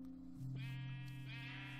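A sheep bleats in a video game world, one drawn-out, close bleat that rises twice over a steady low hum, with no talking.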